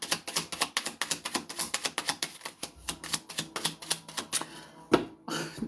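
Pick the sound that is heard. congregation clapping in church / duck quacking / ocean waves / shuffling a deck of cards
shuffling a deck of cards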